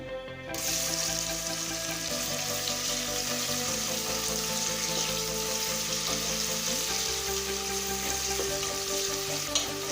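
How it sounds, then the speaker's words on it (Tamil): Steady sizzling of sliced onion sautéing in a hot pan with cumin and fennel seeds, continuous and close, with faint stirring scrapes throughout. "வெங்காயத்தை 1 நிமிஷம் வரைக்கும் நல்லா வதக்கிக்கலாம்."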